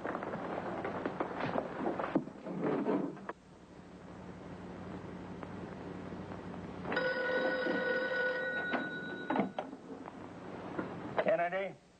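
An old-fashioned telephone bell rings in a 1954 radio drama, a bright sustained ring near the middle, with people talking before and after it.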